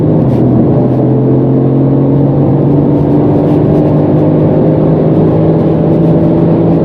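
Brabus 600 tuned Mercedes C63 AMG V8 cruising at high speed on the Autobahn, a steady, fairly subdued engine drone with tonal hum and constant road and wind roar, no talking.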